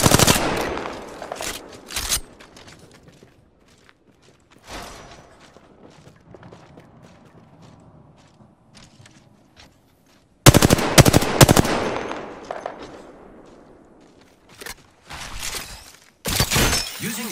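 Gunfire in the battle royale shooter Apex Legends comes in loud, rapid automatic bursts at the start and again later, separated by a quiet stretch with faint movement sounds.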